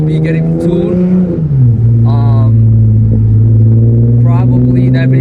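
An Infiniti G37 with an ISR Y-pipe and full bolt-on exhaust sits idling and revving, its loud deep drone dropping in pitch and settling into a steady rumble, with brief high mechanical sounds over it.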